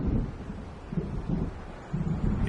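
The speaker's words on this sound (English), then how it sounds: "It seems there's a storm coming." Distant thunder rolls in low, rumbling swells over wind and waves during an approaching storm in the Alan Wake Remastered video game, a steady murky roar with no voices.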